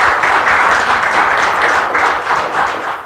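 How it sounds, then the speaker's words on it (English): A room of museum visitors gives a warm round of applause for the staff of the Castle Museum of Saginaw County History, steady dense clapping that holds for about three seconds and eases slightly at the end. "If we can give them a round of applause for all their work."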